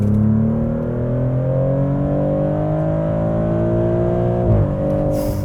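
A 2024 Maserati GranTurismo in automatic mode accelerating at full throttle, a loud, steady engine roar rising in pitch through the gears, with a brief dip at a shift before climbing again.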